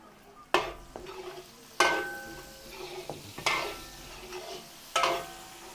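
Garlic and onions drop into hot cooking oil and sizzle loudly, with several sharp bursts as each batch hits the pan, then steady frying and stirring clatter nearby, with no talking.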